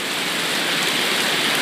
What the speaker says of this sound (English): it is fucking pouring